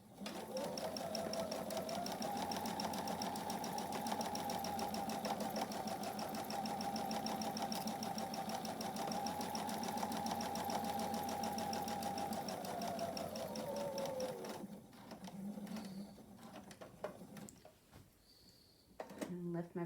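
A sewing machine runs steadily for about fifteen seconds, stitching fabric pieces right sides together, with a close whirring hum that stops before a few quiet clicks and handling sounds, while a voice talks over it.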